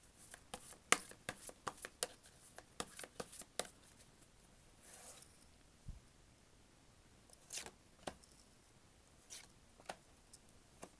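Tarot cards are shuffled and drawn by hand, giving a series of crisp papery flicks and taps up close, busy at first, then sparser, with quiet gaps between.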